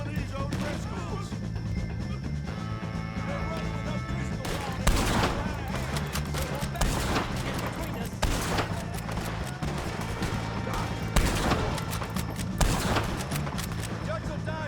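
Rapid, repeated gunfire fills a Red Dead Redemption 2 shootout with the O'Driscoll gang, with bursts of shots and heavier booms running throughout and voices talking over the battle.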